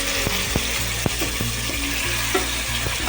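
Chicken tipped into a pan of frying garlic masala for a chicken masala gravy: a steady, close, loud sizzle runs throughout, broken by a few sharp spoon taps and scrapes, with no voices.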